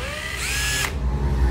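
A used Japanese cordless drill, model 6470 with a 13 mm chuck, runs steadily with a loud whine that rises and shifts pitch as it changes speed, close up and without any talk.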